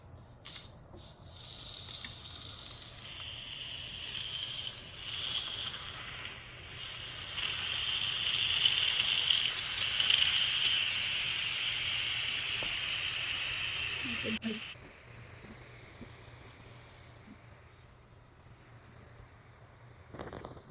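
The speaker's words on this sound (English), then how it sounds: "so let me release the steam." An Instant Pot vents steam after cooking ghee, giving a loud, steady, close hiss that swells partway through, cuts off abruptly, then gives way to a quieter fading hiss.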